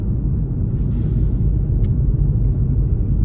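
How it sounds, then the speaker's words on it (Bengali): A car drives at about 50 km/h on a city road between Tikkurila and Tammisto, heard from inside as a steady, unbroken low engine-and-tyre rumble with faint high hiss. "এখন আমি হচ্ছি 50-এর স্পিডে 50-এর রাস্তায় চালাচ্ছি"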